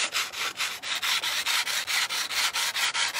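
Sandpaper lightly rubbed over a wooden wall decor frame in steady back-and-forth strokes, about a dozen even rasping passes in a regular rhythm, close and clear with no talk.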